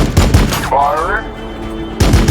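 Loud bursts of rapid gunfire from the Warhammer 40k: Battlesector strategy game open and close the moment, with a short spoken unit line in between.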